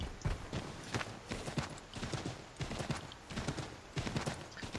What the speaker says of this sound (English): I don't know how wise it is to sprint a horse down a slope